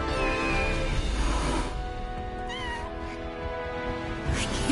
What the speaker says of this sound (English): Whoa, that is more than one cat.